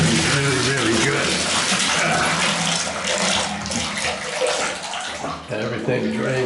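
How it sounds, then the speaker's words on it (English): Hot water runs hard from a bathroom tap, a loud, steady rushing and splashing stream heard close, with a voice speaking over it. "Push this down and just turn the water on."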